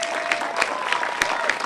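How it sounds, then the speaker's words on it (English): Audience applause at a school's 50th anniversary celebration, a steady wash of many hands clapping with a few sharper claps standing out, continuous through the short stretch with a faint tonal hum beneath. "How about another round of applause for Mr. Caulfield"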